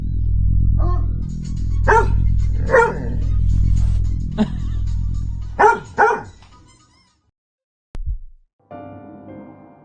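A dog barks several times in security camera footage, loud clipped barks over a steady low hum, followed by a sharp thump, silence and then a brief tonal noise.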